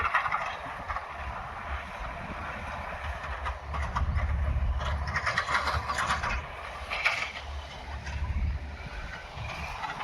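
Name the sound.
tractor with rotavator working in farm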